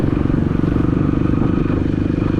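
A Kawasaki KLX BF 150 motorcycle engine runs close by with a steady, throbbing rev, loud and continuous and slightly rough, with faint clatter underneath.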